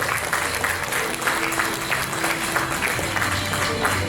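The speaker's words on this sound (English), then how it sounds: "A big round of applause for Dr. K. Hanumantarao Garu." Sustained audience applause at an inauguration ceremony, steady and dense from start to finish, with a faint hum running beneath the clapping.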